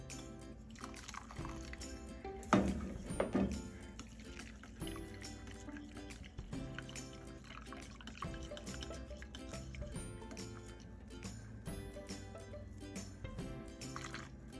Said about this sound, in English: all I have to do is pouring the warm milk slowly and whisking the mixture vigorously